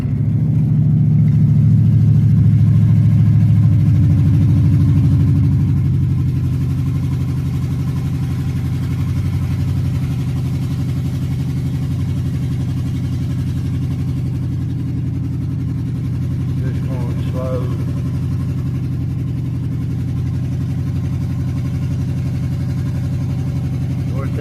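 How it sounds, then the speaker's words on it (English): A truck engine stuck in limp mode while driving, a loud steady low drone that strains without building revs, with a faint rattle partway through. "It's in limp mode, it won't pull up through here very good because of that master control sensor."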